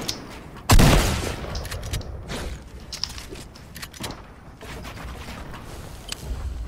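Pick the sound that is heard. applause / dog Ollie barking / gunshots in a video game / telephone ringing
gunshots in a video game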